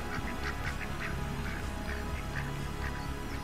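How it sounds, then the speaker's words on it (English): Ducks with ducklings quacking close by outdoors in Northumberland, a string of short repeated quacks over a constant loud wind or background rumble. "I wouldn't have expected to get a close up of some ducks and its baby today."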